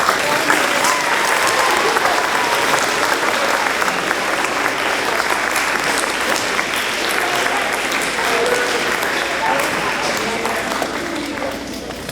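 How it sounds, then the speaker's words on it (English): A large audience applauds steadily at a church and school gathering, a dense, continuous wash of clapping that holds for about twelve seconds and tapers slightly at the end. "let's give a big round of applause."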